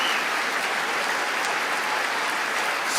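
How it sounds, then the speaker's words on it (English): Sustained audience applause during King Charles's speech in a formal assembly hall, a steady, dense wash of clapping from many hands that holds at an even loudness for the whole stretch without talk. "Are we all clapping for this?"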